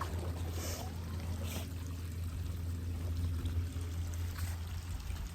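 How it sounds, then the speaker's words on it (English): An Aiper Scuba X1 cordless robotic pool cleaner being lowered into pool water, a steady pouring, trickling splash over a low hum, continuous and close. "we are simply just going to put it in the water"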